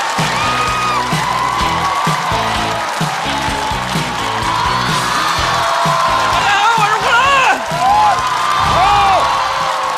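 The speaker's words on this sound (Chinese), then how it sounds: "掌声欢迎小胡！" A studio audience at a stand-up comedy show bursts into loud, sustained applause with whoops and cheers, a dense crowd roar that holds steady for several seconds.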